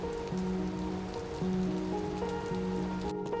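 Steady rainfall hiss runs through the whole stretch at an even level, with soft sustained musical tones layered over it.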